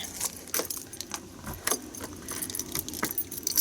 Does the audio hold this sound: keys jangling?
yes